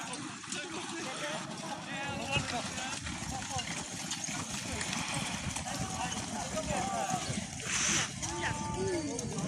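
Horse hooves clip-clop on a London street, a steady stream of hoof strikes under a busy crowd and voices talking throughout, moderately close.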